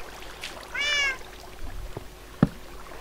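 Cat meowing in the Minecraft video game, a single clear rising-and-falling meow near the middle, fairly quiet, followed by a few soft thuds and a sharp click.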